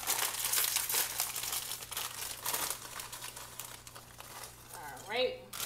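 A bag of chips crinkles and crumples steadily up close, with a short tearing rustle near the end, heard alone in a kitchen while lunch is made.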